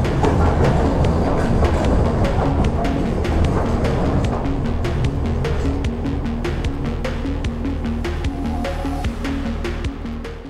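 A Kraków tram runs along standard-gauge track, its wheels clicking in a steady rhythmic clatter over joints under a loud, continuous rolling rumble that eases slightly toward the end.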